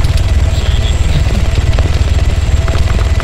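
A helicopter sets down in the military video game Arma 3, its rotor throbbing in a fast, steady low pulse that stays loud and close throughout.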